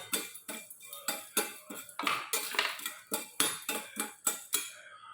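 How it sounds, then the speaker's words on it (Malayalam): Chana dal and urad dal roasting dry in a small pan, stirred with a spoon in a quick regular rhythm of scraping clinks and rattles, close and alone. "അതിലേക്ക് നമ്മൾ ആദ്യം കടലപ്പരിപ്പും ലേശം ഉഴുന്ന് പരിപ്പ് ഇട്ടിട്ടുണ്ട്. അതൊന്ന് വറുത്തെടുക്കാം കേട്ടോ."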